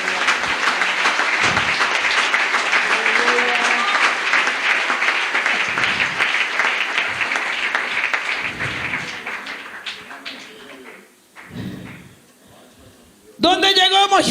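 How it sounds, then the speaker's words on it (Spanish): A congregation at an evening church service applauds loudly and steadily for several seconds, a dense crowd clapping that fades out and gives way to a preacher's voice. "Dele un aplauso a Dios."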